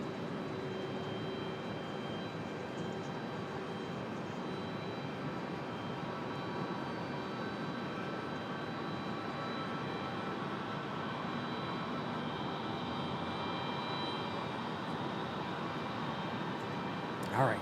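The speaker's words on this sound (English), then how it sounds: "Delta 1377 off to the House of Mouse, and A321 off to MCO." A Delta Airbus A321 jet takes off from Raleigh-Durham airport, a faint, sustained distant engine roar holding steady without clear rise or fall.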